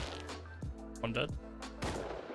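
Several gunshots from the video game Rust, fired in a firefight near an oil rig, crack out in quick separate bursts over a steady low hum, with voices talking alongside.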